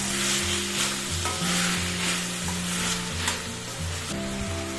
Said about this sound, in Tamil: தக்காளியும் வதக்கிடலாம்.